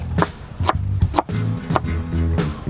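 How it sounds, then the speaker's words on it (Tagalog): Knife slicing half an onion on a cutting board at home, giving five or six sharp separate chops spaced about half a second apart over a low steady background hum. No one speaks. "we just slice half of the onion"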